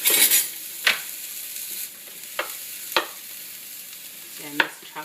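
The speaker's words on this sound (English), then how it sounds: "I'm going to show you what I do to keep from adding additional oil while I'm sauteing vegetables." Onions sauteing in a pan with very little oil, cooked toward translucent rather than brown, give a steady close sizzle broken by several sharp clacks and scrapes of stirring, with no talking.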